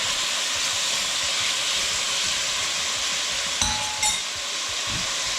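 Chicken browning in a pot for Cajun gumbo, a loud, steady broadband sizzle that holds throughout, with a couple of brief clinks near the end.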